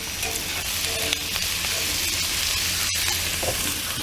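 Potatoes fry in a hot pan with a steady, dense sizzle and crackle throughout, close and moderately loud, with a small clatter near the end and no talking.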